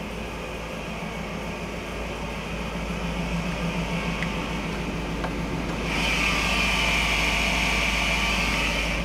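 Chevrolet Silverado 2500 pickup engine idling steadily nearby, a constant low hum with a brighter hiss rising in the last few seconds, no talking.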